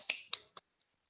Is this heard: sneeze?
no